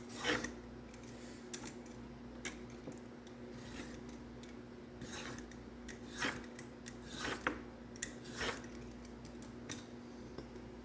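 A carrot scraped with a vegetable peeler in repeated downward strokes, each a short rasping swipe at an irregular rhythm, close and fairly quiet over a steady background hum.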